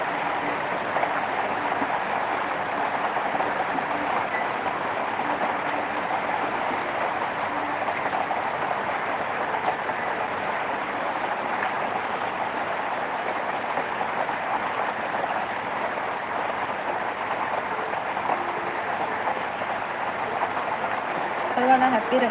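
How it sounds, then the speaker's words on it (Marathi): Heavy rain falls just outside a window, caught close by a phone set beside it, a steady dense rushing hiss that holds at the same loudness for the whole stretch. "बघितलं किती आवाज येतो पावसाचा मी माझ्या मोबाईल खिडकीच्या जवळ ठेवला म्हणून जास्तच आवाज"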